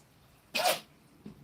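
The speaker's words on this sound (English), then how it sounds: "He sneezes when he's gotta go out." A dog gives a single sharp, close sneeze, a quick burst of air that is followed by a faint snuffle.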